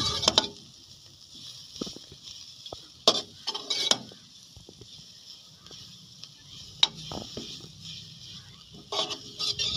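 Chicken samosa filling with spices being mixed in a pot, with intermittent scraping and clinking of a spoon against metal over a faint low sizzle and steady background hiss.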